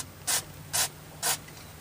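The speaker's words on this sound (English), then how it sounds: "I've got some spray, heavy duty silicone here. Just going to give it a little spray" Heavy duty silicone spray hissing onto a brake line on a 1966 Ford Thunderbird during brake line work, three short, even bursts close by, alone without talk.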